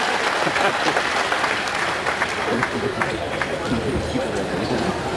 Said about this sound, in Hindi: तो इस भाई बहन के लिए तालियां बजवा दें